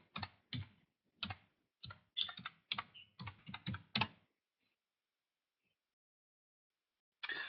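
A computer keyboard being typed on to enter a password: quick, close bursts of key clicks for about four seconds, a silent pause, then one more short burst of typing.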